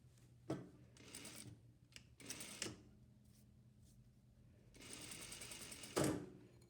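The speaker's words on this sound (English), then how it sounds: "I'm going to sew the pocket bags together" A sewing machine stitches pocket bags together for a pair of easy pajama pants, running in a few short bursts with quiet pauses between them and a longer run near the end, fairly close and alone.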